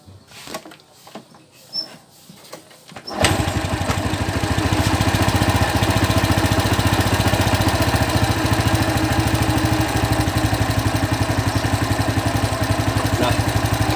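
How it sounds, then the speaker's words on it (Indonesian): A Honda Supra motorcycle engine with AC charging wiring starts after a few seconds of quiet handling and then idles steadily and loudly at close range, a dense rapid putter that continues to the end. "kalau di motor AC sudah hidup ya teman-teman ya"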